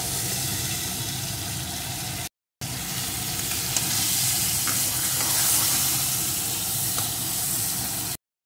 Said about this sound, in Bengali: বেশ কিছুক্ষণ নাড়িয়ে আমি রান্না করে নিয়েছি।